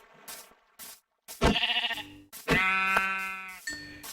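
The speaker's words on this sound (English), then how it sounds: "it's Minecraft and I don't need to kill absolutely every sheep that I see" Minecraft sheep bleat in the video game, several loud, close wavering baas arriving one after another, separated by short gaps and soft clicks.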